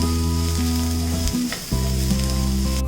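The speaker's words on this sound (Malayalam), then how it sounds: "ഉള്ളിയൊക്കെ നന്നായിട്ടൊന്ന് വഴന്ന് കിട്ടുന്ന രീതിയിൽ നമുക്കൊന്ന് വഴച്ചെടുക്കാം" Onions sautéing in a pan for egg cutlet give off a loud, steady, close sizzle that runs the whole time with a brief dip near the middle, and no one speaks.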